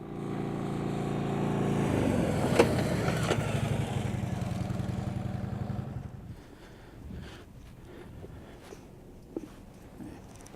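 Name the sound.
police motorcycle braking with rear brake only at 25 mph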